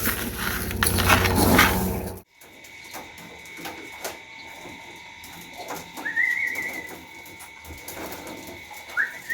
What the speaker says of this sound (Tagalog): Racing pigeons, dito walang takot sa karera.